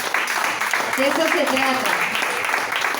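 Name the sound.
church congregation applause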